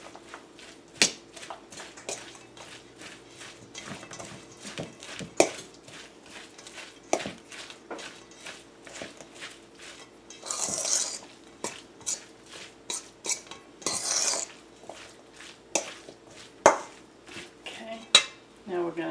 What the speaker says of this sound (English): Just going to mix that in.